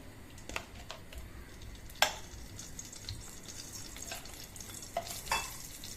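Two spoons of ghee heating in a hot pan, a quiet steady sizzle with a few sharp clinks of a spoon against the pan, no talking.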